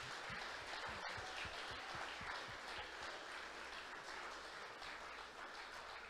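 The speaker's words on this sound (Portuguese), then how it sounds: "Vamos dar uma salva de palmas ao nosso Deus." A church congregation applauds during a worship service. The clapping is a faint, dense, continuous patter with no voices over it, heard from a distance throughout.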